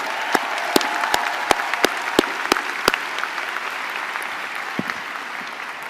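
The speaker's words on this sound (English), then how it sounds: "Give her another round of applause." A commencement audience applauds in a steady wash of clapping, with sharp, loud claps standing out near the front at a regular beat, then thinning out toward the end.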